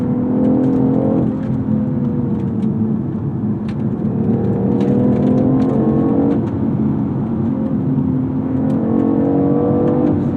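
BMW i8 hybrid sports car, electric motor up front and petrol engine at the rear, drives and accelerates with a steady loud cabin drone and rising engine tone that swells and eases over several gear changes, with no one talking.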